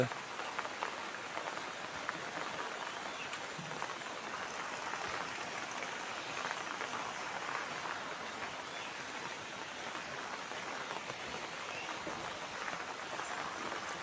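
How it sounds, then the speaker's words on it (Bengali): Dense, steady hiss of heavy rain pouring down, constant throughout with no pauses and no voices. "হঠাৎ সকালবেলাতে অঝোরে বৃষ্টি ঝরছে।"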